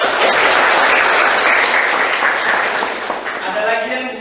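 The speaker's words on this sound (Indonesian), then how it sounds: "kasih tepuk tangan dulu untuk Cindy" Students applauding for a classmate named Cindy in a classroom: a dense, steady burst of clapping from the whole room that holds loud for about three seconds, then thins out as a voice begins to speak near the end.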